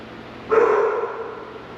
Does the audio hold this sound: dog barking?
yes